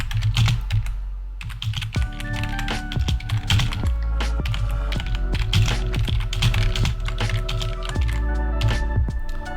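Close, rapid keystrokes on a computer keyboard as text is entered, a steady clatter of clicks over a low rhythmic background pulse.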